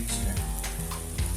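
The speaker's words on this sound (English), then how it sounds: "Frying chicken wings using the click-on air fryer." Chicken wings sizzling in a countertop air fryer, with a close, steady crackling hiss and a few soft clicks under it, and no talking.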